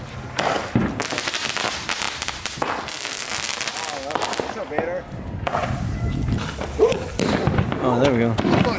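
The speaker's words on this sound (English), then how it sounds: "We have the fireworks show right here for you guys." Firecrackers pop and crackle in rapid, dense bursts nearby, with voices talking and calling out over the steady barrage.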